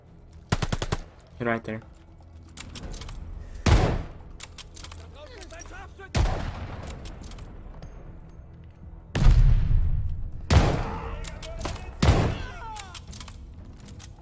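Rifle gunfire in the Call of Duty Vanguard war game, with sharp shots and short bursts cracking out at irregular intervals over about fourteen seconds, mixed with background battle noise while someone talks between the shots.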